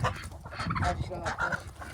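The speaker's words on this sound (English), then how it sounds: "See, that's a really big chicken." Chickens clucking and squawking around a farm run during feeding, including a very large hen, with a rooster nearby; several overlapping calls and honk-like cries come close and fairly loud amid low background noise.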